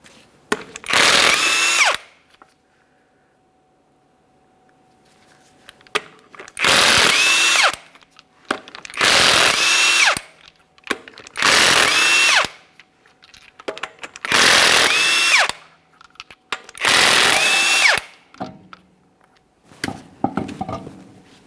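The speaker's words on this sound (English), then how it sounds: "remove all 6 of your 22mm lug nuts and then the wheel" Power tool spinning off the 22mm lug nuts of a 2017-2023 GMC Acadia front wheel: six loud, separate whirring bursts, each lasting about a second, with short quiet gaps between them.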